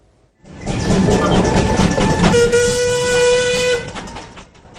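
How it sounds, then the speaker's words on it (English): A miniature steam train on a mile-long garden railway rumbles along steadily, close and loud, with a long sustained whistle tone sounding through the middle of the run. "our transport correspondent Paul Clifton went for a ride on the footplate."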